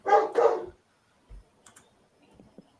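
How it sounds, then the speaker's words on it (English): A dog gives two quick, close barks, followed by a few faint scattered clicks and small knocks in an otherwise quiet room. "Sorry about my dog in the background there kicking off."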